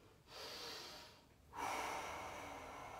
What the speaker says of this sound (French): la respiration recommence à s'accélérer